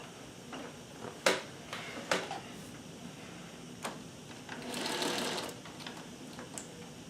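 A Singer 301A sewing machine stitches a shirt, running in short bursts of rapid mechanical whirring punctuated by sharper clicks and knocks, close and steady with no talking.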